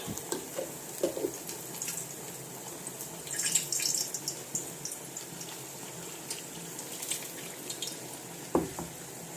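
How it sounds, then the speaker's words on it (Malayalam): Water splashes and trickles into a pan, with soft drips and a brief burst of pouring, faint and close. "വെള്ളം കൂടെ ചേർത്തു നല്ലപോലെ പതഞ്ഞ് വരണത്"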